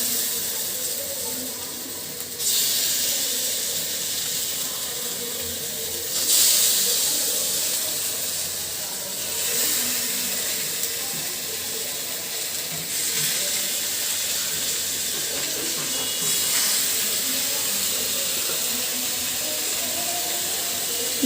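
Marinated fish hisses and sizzles in hot oil in a wok, a steady broad frying hiss that flares louder in several bursts, at around two, six, nine, thirteen and sixteen seconds, with no talk.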